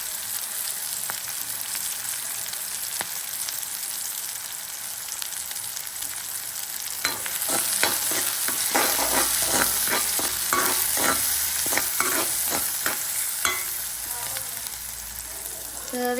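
Fennel and fenugreek seeds fry in oil for a conch curry, a gentle sizzle that grows busier midway as a spoon scrapes and stirs with rhythmic clicks, no voices.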